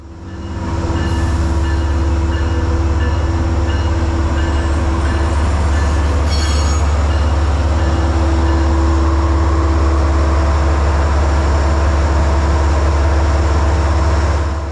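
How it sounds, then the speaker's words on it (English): Metro-North train 1848 slows toward a stop at a platform in South Norwalk, with a loud, steady low drone of motors and wheels and a brief metallic squeal partway through, all close by. "As train 1848 eases to a stop"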